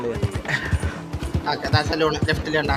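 In Red Dead Redemption 2, horse hooves clip-clop in a rhythmic pattern while a person talks over the game sounds.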